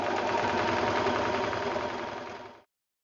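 An overlocker sews a rolled hem in one steady, fast, whirring run. The sound is close and even, then stops abruptly, with no voices.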